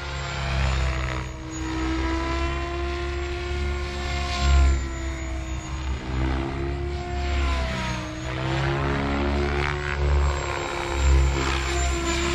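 A remote-control model helicopter's rotor and motor whine steadily and loudly throughout, with a buzzing harmonic drone that swells slightly as it maneuvers nearby.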